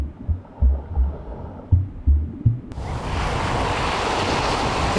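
Ocean waves wash onto a beach in a steady, full roar of surf that swells in abruptly and stays loud and continuous, following a quieter stretch of soft low thumps.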